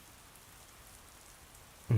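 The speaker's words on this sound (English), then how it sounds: "it's raining." Steady rain patters softly on a surface, a continuous hiss, ending in a sudden loud thump.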